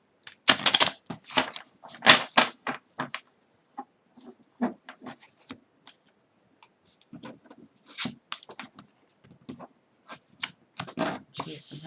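Tarot cards being shuffled at close range, an uneven run of short papery riffles and slaps with gaps between them, as the cards fumble and stop and start again.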